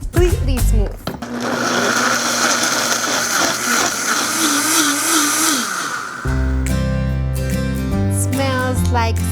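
A blender whirs loudly and steadily for about six seconds, pureeing roasted tomato sauce until smooth, its motor pitch wavering, then cuts out into other kitchen noise and a brief voice.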